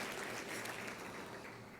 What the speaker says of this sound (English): Another applause for Ken Barrett, Chief Diversity Officer for General Motors.